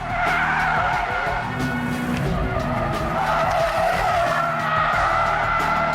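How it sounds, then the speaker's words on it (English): A car with traction control switched off drifts sideways on a test track, engine revving hard under a continuous, loud tire squeal and skid that holds for several seconds. "With traction control now off, it was Ben's last attempt to win the sideways challenge."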